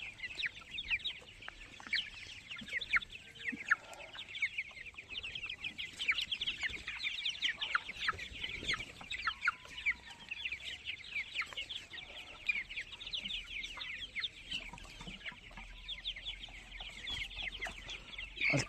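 A flock of 28-day-old tiger chickens in black and brown colors clucking and cheeping constantly, a busy chorus of many birds close by with faint rustling, no voices.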